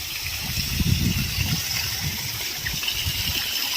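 A waterfall in the Girnar hills, beside a temple, pours during the monsoon with a steady, broad rush of water and a low rumble, loud and continuous, with no voices.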